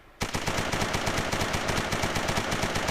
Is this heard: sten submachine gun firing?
yes